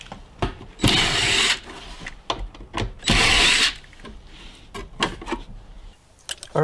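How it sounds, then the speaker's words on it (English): Two bursts of a power drill or driver whir in short spins as a cover over a car battery is removed, mixed with clicks, rattles and handling knocks close by. "we're going to go ahead and remove this cover"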